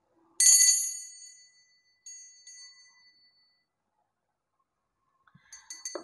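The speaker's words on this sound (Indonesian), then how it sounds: "ditandai lonceng berbunyi" A small bell rings once, bright and clear, and fades slowly, followed by a softer second ring and then a few light clinks near the end, in a quiet room.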